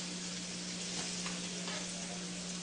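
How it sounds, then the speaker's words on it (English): Rice mixed with vegetables fries in a skillet, a steady close sizzle with faint stirring scrapes running unbroken throughout, no voices over it. "I actually mixed the rice with all the veggies, put it in a skillet"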